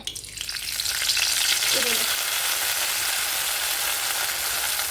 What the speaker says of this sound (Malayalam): ഇനി ഇതിലേക്ക് നമ്മൾ ആദ്യം ഈ എണ്ണ നന്നായിട്ട് ഒരു ചൂടായി വരുമ്പോൾ തുളസിയില